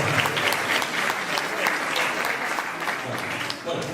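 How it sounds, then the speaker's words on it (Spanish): Audience at a school audiovisual festival breaking into applause, a dense, loud burst of many people clapping that holds steady with faint crowd voices mixed in and a slight dip near the end. "Un aplauso para él"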